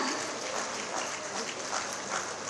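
Audience applause at an award ceremony for journalists, a steady dense wash of clapping filling the whole moment at a moderate level, without pauses or individual standout claps.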